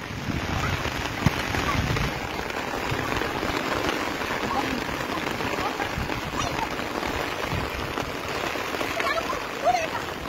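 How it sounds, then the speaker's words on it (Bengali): Heavy rain falls outside in a steady, dense patter and hiss, with splashing drops near by and people talking quietly under the continuous downpour. "বৃষ্টি বাড়তেছে খালি।"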